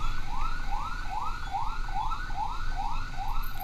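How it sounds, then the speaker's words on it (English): An ambulance siren wails in steady rising sweeps, loud and close, cutting through the rumble of street traffic on Thamrin Street, with no talking. "Ambulance."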